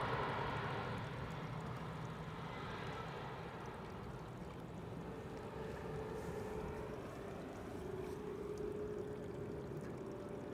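A Transavia airliner returning from Barcelona arrives on runway 18R at Amsterdam Schiphol, its steady broadband engine roar heard continuously at a distance with a low rumble and faint rising whine.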